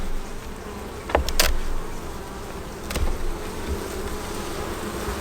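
A steady, close hum of many bees fills an opened hive, with a few brief clicks and knocks over the continuous buzzing.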